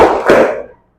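Two quick hand claps close together in a reverberant classroom, loud and close, each one trailing off into a short echo.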